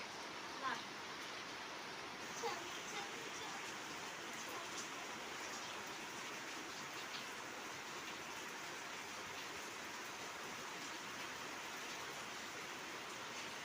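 Heavy rain pours down in a steady, even hiss that holds for many seconds, faint and distant overall, with a couple of small taps near the start.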